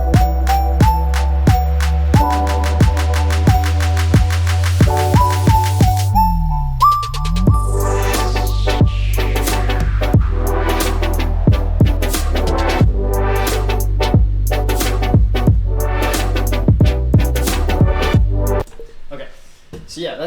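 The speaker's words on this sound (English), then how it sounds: "Kick drum fast, it gets faster, the claps get faster" An EDM pre-drop build in which kick drums and claps speed up, a sub oscillator sweeps, white noise rises, and then a sub drop lands into a dense, loud electronic mix.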